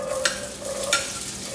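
Onions tossed into a hot pan with fennel nearby, a low steady sizzle broken by two sharp scraping stir strokes, close and fairly quiet with no voices.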